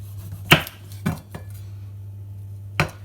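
A knife chops the end off a garlic clove on a cutting board: a few sharp knocks, one loud and two softer in quick succession, then another after a pause, over a steady low hum.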